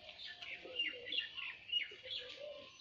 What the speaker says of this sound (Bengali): অনেক পুরনো পায়রা।